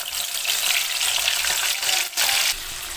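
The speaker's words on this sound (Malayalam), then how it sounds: "ആ ഒരു ഇതിലേക്ക് തന്നെയാണ് നമ്മൾ ചിക്കൻ വറക്കാൻ വേണ്ടി ഇട്ട് കൊടുക്കുന്നത്" Chicken fries loudly in hot oil in a biryani pot with fried onions, cashews and raisins, a dense, steady sizzle with a brief stir partway through.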